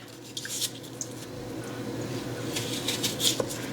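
Apples being sliced apart by knife for applesauce, with soft wet squishing cuts and small clicks in an irregular rhythm, close and moderately loud, with no talking.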